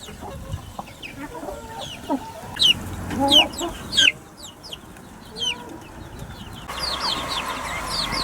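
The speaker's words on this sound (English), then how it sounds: "It's now about 3 hours since we let the chicken and the chicks out of the chick run, and as you can see, they are very much up and about." Backyard hen and her chicks out of their chick run in a suburban garden, with soft clucks and high chick peeps scattered throughout amid outdoor ambience, fairly close and moderately loud, no talking.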